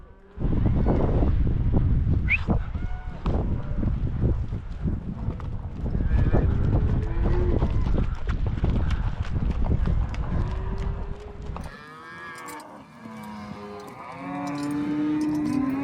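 Cattle and horses on a cattle drive across the Utah desert: dense, continuous hoof clatter and animal movement fill the first part, fading to quieter rustling with a few lowing calls at the end.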